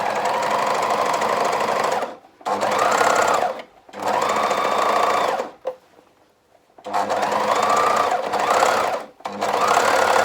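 Sewing machine stitching the curved top edge of a fabric tie, running in three steady loud bursts separated by short pauses, close and alone with no talk.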